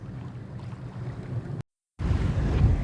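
A sailboat moving along the Martinique coast in fluky, shifting wind, with steady broadband wind and water rush and a low rumble of waves against the hull, broken by a brief dropout before returning louder.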